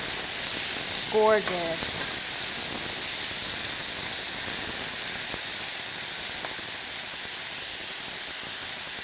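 Tomatoes sizzle and char in a hot pan for an orzo pasta dish, a steady close hiss running throughout, with a brief spoken word near the start.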